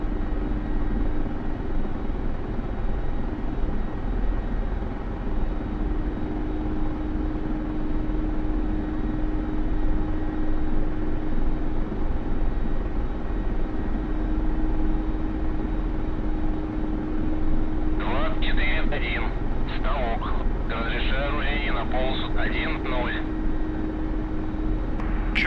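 A Mi-24 Hind helicopter in a VR flight simulator game drones steadily with a constant low rotor and engine hum. Brief fluttering bursts join in near the end.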